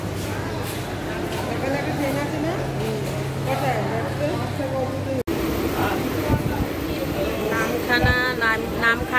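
A Namkhana local train at Sealdah station rumbles and clatters steadily, with a low hum in the first half and squealing wheels or brakes near the end, while people talk nearby throughout.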